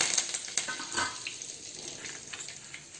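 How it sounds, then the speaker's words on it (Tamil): Mustard seeds, urad dal and curry leaves temper in hot oil in a small pan, giving a faint, steady crackle with scattered sharp pops and no talk. "இப்போ ஒரு குட்டி பேனில் நான் எண்ணெய் ஊற்றிருக்கேன். கடுகு உளுந்தமருப்பு தாளிச்சிக்கலாம்."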